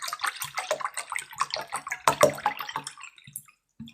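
Deionized water poured into a bowl, with a splashing, trickling stream that fills most of the four seconds and then trails off into quiet.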